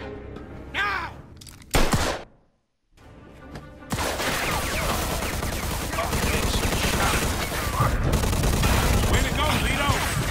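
Dense gunfire in the video game Mafia II: a few loud shots and an abrupt silence, then sustained rapid bursts of automatic fire with booms and shattering, loud and continuous under raised voices.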